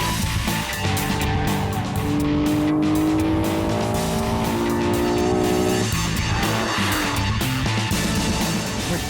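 Honda NSX driven hard on a race track, a loud steady engine roar with rising gear-pitch sweeps and growling brakes, tire squeal through corners, no talking.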